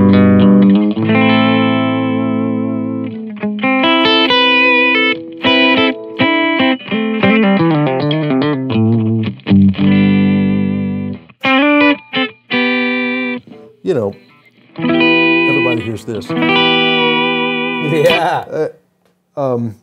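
Electric guitar plays chords and single-note phrases with a washy spring reverb tail, pausing briefly between passages.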